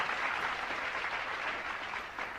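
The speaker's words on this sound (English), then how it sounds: "Give her a big round of applause" An audience at a comedy show claps in a steady wash of applause that stays even throughout, with no voices over it.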